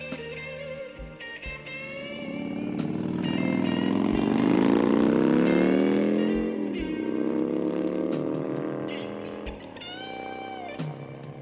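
A Harley-Davidson Fat Boy motorcycle engine rumbles and revs up in a swelling, throaty roar, then eases back down, with sharp clicks and clatter scattered throughout.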